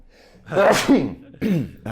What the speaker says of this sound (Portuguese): Espera aí, que vou espirrar.